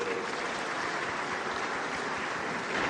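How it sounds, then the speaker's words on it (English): Sustained applause from a large audience at an international business gathering, a dense, steady wash of clapping that fills the whole moment with no voices rising above it. "Give yourselves a round of applause."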